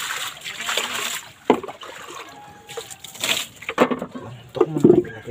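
Water splashes and sloshes against a mud-caked pumpboat in irregular bursts of varying strength, near and fairly loud, with quieter trickling between the splashes.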